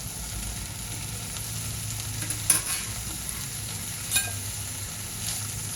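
Paneer fries in a pan with a steady, moderate sizzle and occasional soft stirring scrapes, heard close with no voices.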